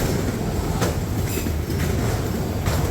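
A freight train hauled by SD40-2 and C40-8 locomotives passes close by as a steady, loud rumble of rolling cars, with continuous wheel-and-rail noise and faint clatter throughout.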